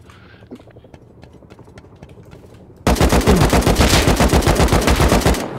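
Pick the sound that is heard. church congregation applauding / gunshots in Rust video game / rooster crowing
gunshots in Rust video game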